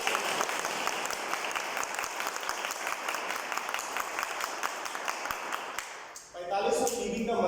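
An audience at a Vestige wealth-plan presentation claps steadily in dense, sustained applause that fades out near the end, followed by a brief burst of other noise.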